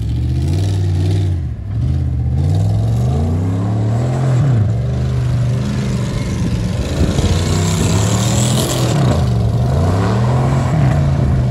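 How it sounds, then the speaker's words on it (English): A Ford F150 EcoBoost pickup drops down a gear and revs, its engine note rising and falling in repeated surges, loud and close throughout, with clatter mixed in and no talk. "he just must have dropped it down a gear"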